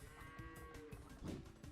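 A faint sheep bleat from the strategy game Age of Empires 2 rises briefly out of dense, busy in-game ambience.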